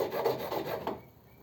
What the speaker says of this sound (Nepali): यहाँलाई यसरी मैले ह्याक्सो प्रयोग गरेको छु।